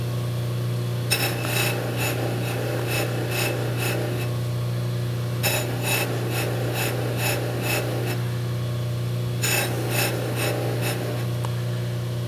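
A Baldor buffer wheel runs with a steady motor hum while a 3/4 inch flat square bar is pressed against it in three bursts, each a rapid rhythmic rasping scrub.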